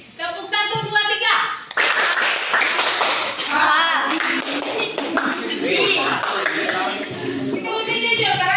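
A class of schoolchildren claps hands together in a counting clap game, a dense burst of near claps mixed with chatter and the teacher's voice speaking over it.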